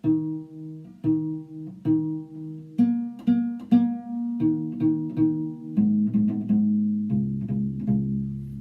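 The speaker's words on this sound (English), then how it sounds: "we're going to be doing pizzicato" Plucked cello strings ring out in a steady series of low notes, each pluck decaying before the next, played alone without talking.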